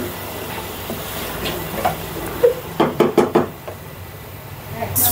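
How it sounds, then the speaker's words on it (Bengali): Meat cooking with ginger garlic paste and chopped onion in a pan: a soft sizzle under a quick run of utensil knocks and scrapes from stirring, close by. "এই যে মাংস রান্না হচ্ছে, মাংসর ভিতরে এখন আমি আদা রসুন বাটা দিয়ে দিচ্ছি।"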